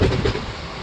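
A 07783 Vijayawada to Guntur passenger train running flat out at about 110 km/h, heard from inside a coach as a brief, loud, steady roar of wheels and rumble.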